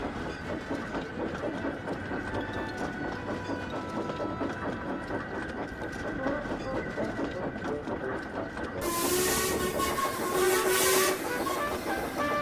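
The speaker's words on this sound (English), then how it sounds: "Whenever he heard Murdoch's whistle, he smiled" A train rumbles and clatters steadily along the track, then a loud steam whistle blows near the end, with faint talk in the background.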